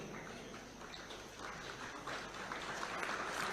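Applause from an audience at an award ceremony during a Kenyan official event, a steady broadband clapping wash that swells slightly toward the end, moderately distant.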